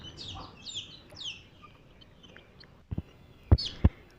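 Desi chickens cluck and chatter nearby in short bursts, followed by a few sharp knocks or thumps close by.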